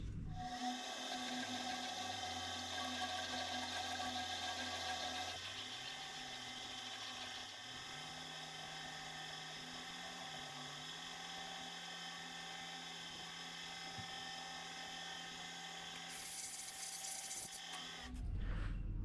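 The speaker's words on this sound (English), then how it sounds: "So it's just going to be a 9/16 drill and see how it cuts." A steady mechanical whine of a 9/16-inch drill bit boring through a metal bar clamp for a Waratah harvester head runs continuously for many seconds, with a shifting low motor tone and no talking.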